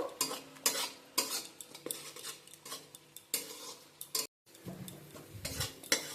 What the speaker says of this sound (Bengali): পেঁয়াজটা একটু আমি হালকা ভেজে নেব